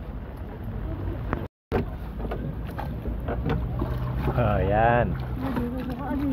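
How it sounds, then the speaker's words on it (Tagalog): A small paddle boat glides on Burnham Park lake in Baguio City, wind buffeting the microphone while several people chatter, laugh and call out close by. "Nakasakay tayo ngayon dito sa bangka"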